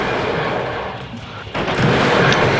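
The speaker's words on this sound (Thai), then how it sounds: "I'm gonna shoot you n o w" Gunfire in the Roblox game Untitled Tag Game, heard as a loud, dense burst of game shots and booms filling the whole moment, with a sharper surge of blasts partway through and no talk over it.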